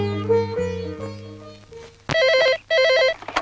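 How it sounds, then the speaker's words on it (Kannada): A telephone bell rings loudly in two bursts of rapid warbling trills with a short gap between them. The rings come after a stretch of sustained musical tones, and no one speaks. "ಪಾರು ಫೋನ್ ಬಂದಿದೆ ಕಣೆ."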